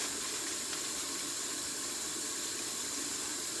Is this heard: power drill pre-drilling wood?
no